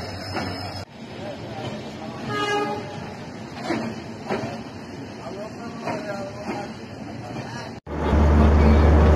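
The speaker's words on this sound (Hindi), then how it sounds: "ये जो है चंपारण हमसफर एक्सप्रेस का लोकोमोटिव जो है वो अटैच हो रहा है अभी" The locomotive of the Champaran Humsafar Express couples onto its train at a station, with rumbling and clanking metal, a sustained high whine and a deep roar swelling at the end, while someone talks over the noise.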